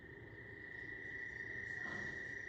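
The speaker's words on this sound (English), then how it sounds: "This is what an American toad sounds like." American toads call non-stop near a house, a continuous high, steady trill holding at one pitch throughout, fairly faint over a dense background of night noise.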